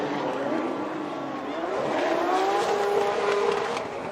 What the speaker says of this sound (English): your defending champion, Fredric Aasbø, in that Toyota GR Supra, the Rockstar Energy Drink, flowing through the veins